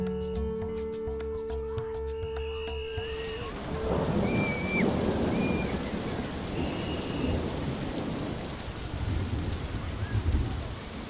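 Steady rain patters down while deep thunder rumbles and rolls, with a few bird chirps over the storm; no one speaks.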